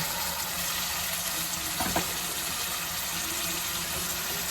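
Boiled cluster beans tipped into hot oil in a pan give a steady, close sizzle and frying hiss that holds throughout, with a brief clatter of the beans dropping in.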